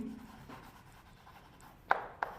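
A teacher writes on a classroom board, faint soft rubbing strokes followed by two sharp taps of the marker or chalk near the end in a quiet room.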